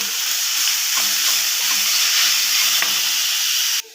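Quarter kilo of grated beetroot with green chilli sautéing in a pan, a steady close sizzle and hiss with faint stirring scrapes, cutting off abruptly near the end.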